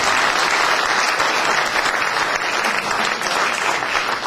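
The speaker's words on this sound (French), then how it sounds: "On vous applaudit très fort tous les deux." A conference audience breaks into loud, sustained applause, a dense wash of clapping that stays strong and even from start to finish with no voices standing out.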